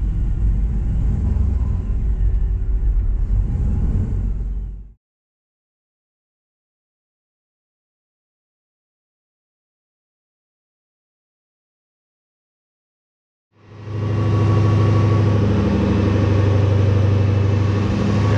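A Caprice with a 4L60e automatic transmission runs on a dyno, a loud, steady engine drone lasting about five seconds, then silence, then the heavy rumble returns near and strong.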